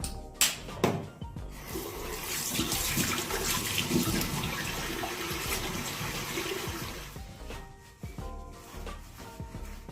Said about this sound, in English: this is the liquid soap they have here at the hotel. So we're going to clean it up with a cleanser.